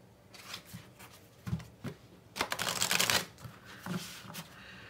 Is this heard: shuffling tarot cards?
yes